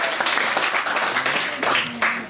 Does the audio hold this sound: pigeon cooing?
no